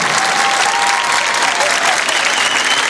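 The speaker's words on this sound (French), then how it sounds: "Je vous demanderai d'applaudir, s'il vous plaît, pendant une minute, bien bien fort" A crowd applauds loudly and continuously at a live show at a wedding fair in Paris, a dense roar of clapping with a faint tone running through it.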